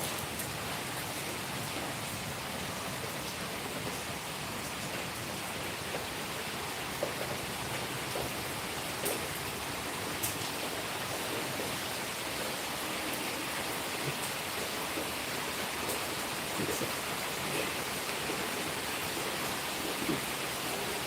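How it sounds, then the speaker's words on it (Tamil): Steady heavy rain pours down across Chennai, a dense, continuous hiss of drops striking surfaces that stays even and unbroken throughout with no voices. "இப்போ நம்ம சென்னையில் எல்லாம் ஃபுல்லாக மழை பெஞ்சிக்கிட்டே இருக்கு"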